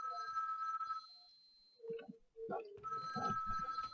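A telephone rings with an incoming call, a loud electronic ringtone that sounds, stops and then starts again, with people talking briefly in the gap.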